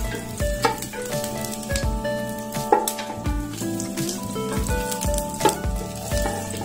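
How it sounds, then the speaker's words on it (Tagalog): Crushed, unsliced garlic frying in a pan until golden brown for kansi, a steady sizzle broken by repeated stirring clatters against a constant tonal hum in the background. "Tala natin mag-golden brown yung bawang."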